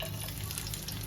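Garlic and curry leaves frying in hot oil give off a steady, close, dense sizzling hiss that runs evenly through the whole short stretch, with no voices.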